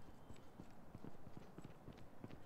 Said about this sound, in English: I hear another footstep somewhere.